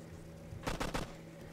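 A short burst of automatic gunfire in the military video game Operation Flashpoint, three or four rapid loud shots over a steady background hum.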